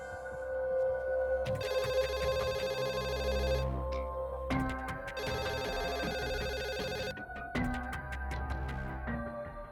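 An old-fashioned telephone bell rings in repeated long bursts with short pauses between, steady and fairly loud over a low background hum.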